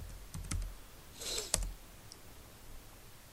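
Keys tapped on a computer keyboard to enter a network command, a few sparse, quiet clicks with one brief louder burst midway, in an otherwise hushed room.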